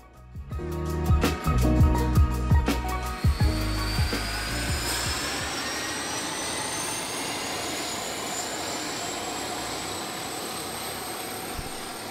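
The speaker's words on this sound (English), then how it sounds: "After the flight into the lake, the pilot returns to his plane." A floatplane on a remote Canadian lake starting up, a few clanks and knocks, then a loud engine whine that builds and holds steady, with a high drone rising over the roar.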